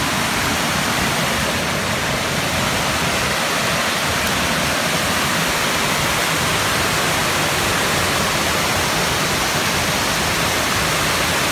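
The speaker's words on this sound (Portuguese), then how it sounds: "Aí a cachoeira, Penedo." Waterfall in Penedo, Brazil: a steady, full roar of rushing water that stays constant and fairly loud throughout, with no voices over it.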